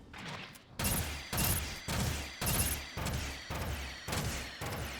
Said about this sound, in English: that gun seems powerful. And it's got a lot of ammo.